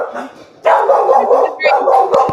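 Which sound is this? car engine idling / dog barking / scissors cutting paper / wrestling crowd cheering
dog barking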